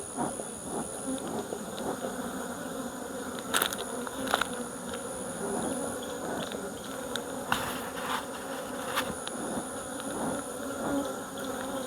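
Bees buzzing steadily at an opened hive during an inspection in Nigeria, a dense continuous drone with occasional louder passes of single insects close by; no talking.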